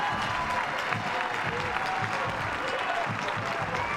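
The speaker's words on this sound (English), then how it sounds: "he gets a round of applause from his NC State fan base" NC State baseball fans at a game in Raleigh applaud a pitcher leaving, a steady spread-out clapping from the stands with a commentator talking over it.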